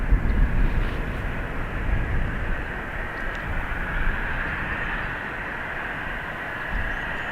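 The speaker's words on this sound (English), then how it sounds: "Ryanair to Vienna next." A Ryanair jet departing Dublin Airport for Vienna, heard as a steady, fairly distant engine rumble and roar that slowly eases off, with no voices over it.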